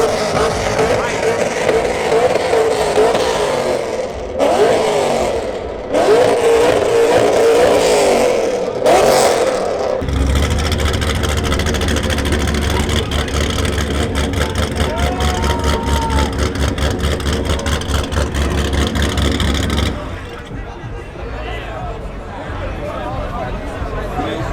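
A car engine roars during a burnout, loud and sustained with a deep, pulsing drone for about ten seconds, set among outdoor crowd noise and chatter before and after.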